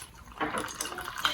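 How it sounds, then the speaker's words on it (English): A cup of sourdough starter poured into a bowl in a home kitchen, a short soft wet glugging and splatter, faint and close. "So we're going to use a cup of this starter, and we're just going to pour it in here."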